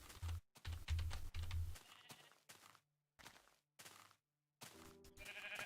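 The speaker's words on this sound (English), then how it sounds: "Oh man, there's so many sheep over here." Sheep in Minecraft bleating several times in a short burst of calls, mixed with clicky keyboard-like taps and brief quiet gaps, fairly close and moderately loud.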